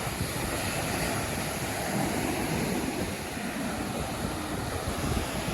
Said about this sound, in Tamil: எவ்வளோ பெரிய அலான்னு பாருங்க